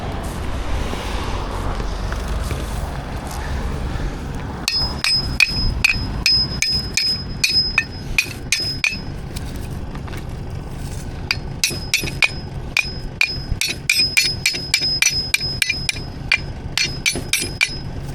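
Repeated claw hammer strikes on metal, beginning after a few seconds of low rumble and continuing as irregular bursts of sharp, ringing blows with a bright metallic tone, close and loud, during work on a car being prepared for towing to a wrecking yard.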